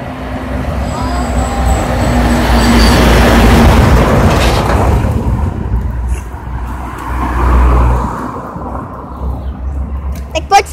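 A truck in a video game rumbles past loudly and close, its heavy low drone swelling and then fading over several seconds, while people talk over it.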